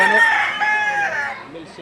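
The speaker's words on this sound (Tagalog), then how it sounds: "anim na manok." Rooster crowing among several chickens at a poultry seller's stall from Liliw, Laguna, a loud harmonic crow drawn out over nearly two seconds that fades at the end.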